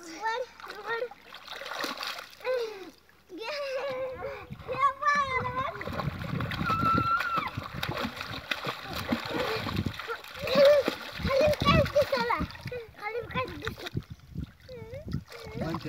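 Water splashes and sloshes as a five-year-old boy kicks his legs while learning to swim, steady irregular splashing close by under an adult's encouraging talk and a voice throughout.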